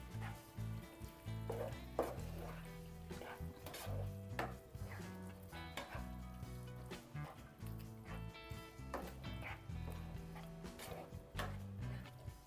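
A spoon stirs bitter gourd curry with coriander leaves in a pan on a gas stove, making steady repeated scraping and clanking strokes under a low hum of cooking, fairly faint and continuous throughout.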